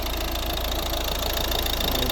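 A 2011 Volvo S40 with a 1.6 D2 diesel engine runs at idle, a steady close-up diesel clatter with an even rhythmic knock and no voices.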